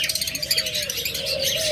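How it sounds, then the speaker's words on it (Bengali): A pair of large cockatiels chirp close by, with quick shrill calls and a thin wavering whistle repeating over a faint background. "এখানে এক জোড়া মাস্টার পেয়ার ককাটেল, একদম বিগ সাইজের।"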